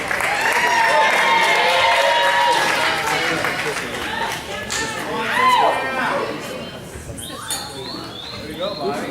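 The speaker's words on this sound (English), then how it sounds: "Ladies and gentlemen, a big round of applause." Wedding guests at a reception applaud and cheer, a loud crowd of clapping mixed with whoops and voices that swells and then tapers off.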